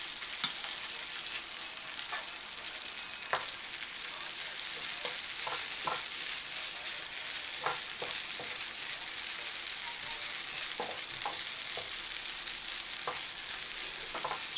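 Food frying in a pan over a flame gives a steady, fairly quiet hiss of sizzling with scattered pops and crackles. Utensils occasionally clatter lightly against the pan.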